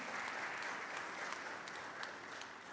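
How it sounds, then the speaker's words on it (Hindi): Audience applause for a poet at a Diwali poetry gathering, a steady, dense wash of many hands clapping throughout, fairly loud and even. "अच्छी तालियां बजाइए नीलोत्पल मिड़ाल जी के लिए"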